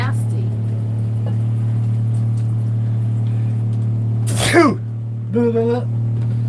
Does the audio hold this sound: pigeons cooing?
no